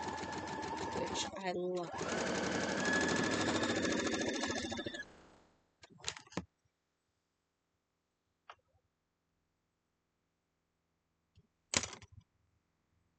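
A sewing machine chain piecing a quilt block runs in a loud steady whir for several seconds, then stops, followed by a few short clicks and taps and a brief spoken remark.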